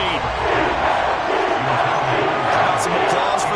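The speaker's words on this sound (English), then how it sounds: "Some applause for the defense there" Applause and cheering from a large football stadium crowd for the defense after an incomplete third-down pass, a dense, steady roar that holds throughout with no clear voices.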